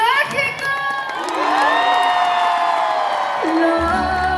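Live concert crowd in Mexico cheering loudly, with shrill whoops and shouts rising over a dense roar of voices and some clapping, sustained and close, while a voice speaks through part of it.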